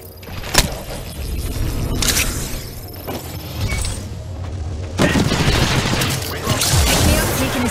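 Gunfire in the battle royale shooter Apex Legends: bursts of weapon fire with sharp cracks and booms over layered game noise, growing denser and louder in the second half.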